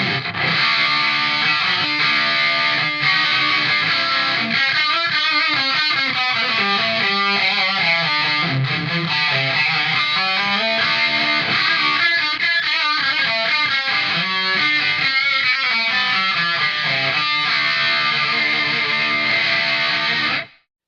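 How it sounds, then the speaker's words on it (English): Electric guitar runs through a Peavey Windsor amp with the EQ reshaped and the preamp volume raised, producing a thick, heavily distorted tone as chords and riffs play loudly and nonstop, then stop suddenly. "let's get a really good guitar sound by moving some of the EQ a bit and turning up the preamp volume"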